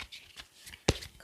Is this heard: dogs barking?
no